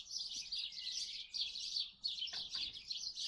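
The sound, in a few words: sparrows chirping down the lane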